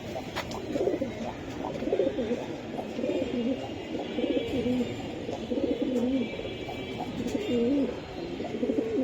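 High-flyer pigeons coo repeatedly in a loft, close and clear. The rolling calls overlap in an irregular rhythm over steady background noise.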